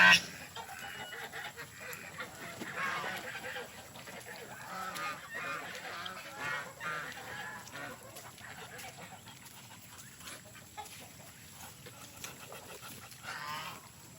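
Farm geese honking and calling in a steady, busy chorus, with occasional louder squawks over continuous background noise and no speech.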